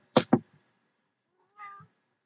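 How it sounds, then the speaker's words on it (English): A pet cat meows indoors, with two short, sharp meows in quick succession followed after a pause by a softer, longer meow, fairly close and with no talking over it. "That's my cat."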